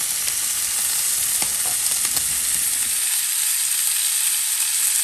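A full rack of barbecue pork ribs sizzles on a Blackstone flat top grill outdoors over low heat, with a steady, close hiss that continues throughout and has a few faint clicks.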